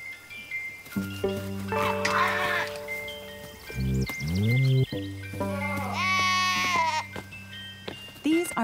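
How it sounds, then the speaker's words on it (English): Myotonic (fainting) goats bleat loudly and nearby, several long wavering cries in turn with short pauses between them. "These are myotonic goats, also known as fainting goats."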